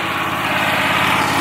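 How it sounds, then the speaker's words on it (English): A Quick Trak stand-on mower mows a steep hill, its engine droning loud and steady at close range with a constant, unbroken roar and no voices. "Mowing this hill with the quick track behind me."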